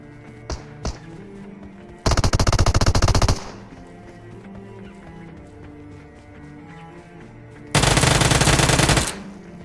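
Automatic gunfire from a gun in the BGMI battle royale video game, heard as two loud sustained bursts of rapid shots separated by a quieter stretch with a couple of faint taps early on.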